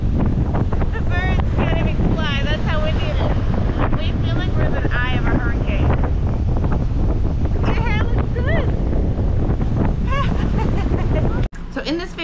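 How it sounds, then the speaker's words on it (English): Strong wind blows outdoors in South Texas during a sandstorm, battering the microphone with loud, steady rumbling gusts that fill the scene. The roar continues almost unbroken, then cuts off abruptly near the end. "We are stuck in the house because it's just crazy wind outside and the sandstorm that goes on your skin."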